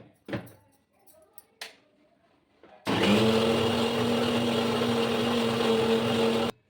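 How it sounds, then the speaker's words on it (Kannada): An electric mixie jar grinds grated coconut, cooled tomato and sambar powder smooth, starting after a couple of clicks and then running in a steady, loud whir for several seconds. "ಒಂದು ಮಿಕ್ಸಿ ಜಾರ್ಗೆ ಸ್ವಲ್ಪ ಕಾಯಿ ತುರಿ ತಣ್ಣಗಾಗಿರೋ ಟೊಮೊಟೊನ ಹಾಕಿ ಸ್ವಲ್ಪ ಬೇಳೆ ಸಾಂಬಾರು ಪುಡಿನ ಹಾಕಿ ನೈಸಾಗಿ ರುಬ್ಕೋತಾ ಇದ್ದೀನಿ"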